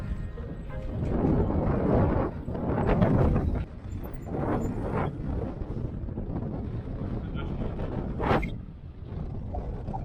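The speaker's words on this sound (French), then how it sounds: "Il y a quand même vachement de vent" Strong wind buffets the microphone outdoors during an electric bike ride in open country, a loud continuous roar with gusty surges and no speech.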